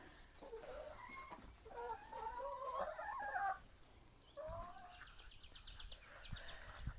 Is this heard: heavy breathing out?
no